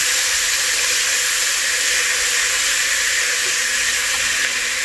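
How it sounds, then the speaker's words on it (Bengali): Oil sizzling in a pan with garlic paste while cooking plain pulao, a constant loud hiss holding evenly throughout without talk. "তেল ভাজছি।"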